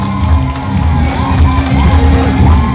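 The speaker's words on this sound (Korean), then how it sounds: "여러분 뜨거운 박수로 다시 한번 환영해 주시기 바랍니다" A large, dense crowd at a Korean political rally cheers, shouts and whoops loudly and continuously, a steady roar filling a packed hall with no single voice standing out.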